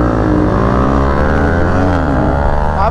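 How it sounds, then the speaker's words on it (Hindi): Yamaha R15M and Royal Enfield Himalayan 450 motorcycle engines run loud and close at a drag race start, a steady, throaty drone whose pitch climbs at the end as one revs. "अब शुरू करते हैं ड्रैग एंड स्टार्ट कर लिए बाइक"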